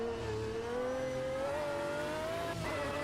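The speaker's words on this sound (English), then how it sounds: "Oh, the downshifts." Lamborghini race car in the racing game Automobilista 2, its engine note holding a steady high pitch then dropping as it downshifts near the end, loud and continuous with no talk.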